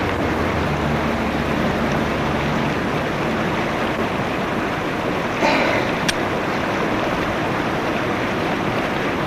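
Howling wind for a radio drama plays as a steady, loud broadband rush that fills the whole clip, with a brief gust or rustle just past the middle and no voices.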